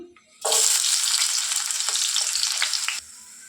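Onions dropped into hot oil, a loud sudden burst of steady hissing sizzle that holds for a few seconds and then cuts back to quiet, close and alone.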